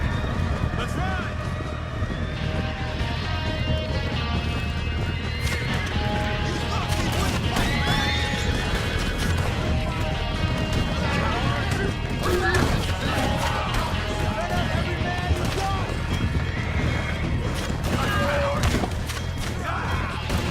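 Horses whinny repeatedly amid a busy rumble of pounding hooves, crashes and thuds in Red Dead Redemption 2, with voices shouting over the commotion.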